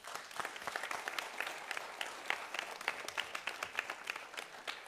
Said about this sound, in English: I think we should have a special round of applause for the kids.